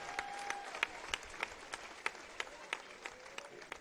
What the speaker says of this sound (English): Let's give Chris and the Mullet Design Group a huge round of applause